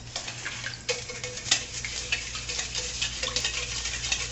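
A spoon stirs sugar into a milk drink mixed with cold water, giving soft repeated clinks and scrapes against the container. The stirring stays close and steady and nobody speaks.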